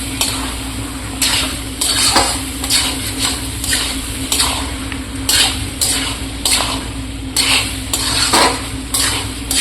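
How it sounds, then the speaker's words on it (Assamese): Chicken is stirred through spice paste in a frying pan, with a steady sizzle under repeated scraping and clinking strokes of a spoon against the pan, close and fairly loud, with no talk. "এতিয়া পেষ্টখিনিৰ লগত মাংসখিনি ধুনীয়াকৈ মিক্স কৰি ল'ম"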